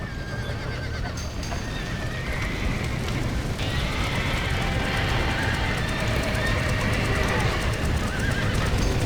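In the video game Red Dead Redemption, horses whinny and hooves clatter inside a burning barn amid a constant crackling, roaring din of fire, with people shouting over the commotion.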